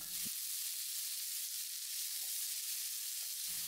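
Finely chopped large onions sizzle in a pan of oil for South Indian cauliflower peas masala, a loud, steady frying hiss heard close up with no talking.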